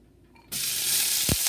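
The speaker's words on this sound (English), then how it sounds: "And we're going to put that into our yummy, yummy bacon grease." Diced onion and celery hitting hot bacon grease in a pan, bursting into a loud, close sizzle after a quiet moment and then frying steadily with a brief clatter.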